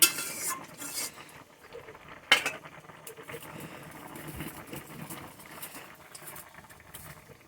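A spoon stirs boiled shukto vegetables in a cooking pot, giving light scraping and clinking with a sharper knock early on over a low bubbling background.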